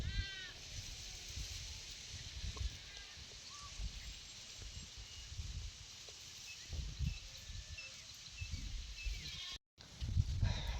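Goats bleat now and then against a steady outdoor background, short wavering calls at moderate distance, with a few louder bursts near the end.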